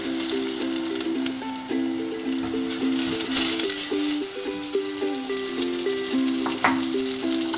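Tomato paste hits frying spices in a pan for chicken makhni, making a steady sizzle and crackle under melodic background music.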